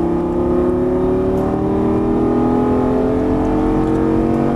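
A Lamborghini accelerates on a race track, its engine loud and near with a steadily rising tone under full throttle. Nobody speaks.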